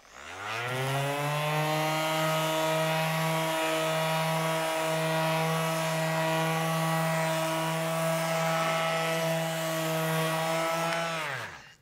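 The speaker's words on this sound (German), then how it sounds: "auch diese kleinen, kompakten Geräte mit nur 2 mm Schleifhub haben eine wirklich gute Abtragsleistung" A compact power sander with a 2 mm stroke runs on wood, starting up to a steady, loud buzzing hum that holds evenly for about ten seconds before winding down, alone without speech.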